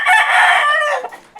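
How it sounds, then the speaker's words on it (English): A Cemani rooster in Bali, kept for cockfighting, gives one loud, close crow lasting about a second, followed by faint scuffles. "Look, Bali's smart rooster. Cemani."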